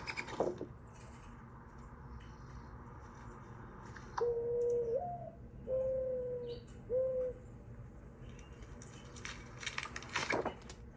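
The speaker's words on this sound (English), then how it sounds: "Mourning doves call." A dove gives a soft, low cooing call of three drawn-out notes in a quiet outdoor setting, with a few clicks and rustles around it.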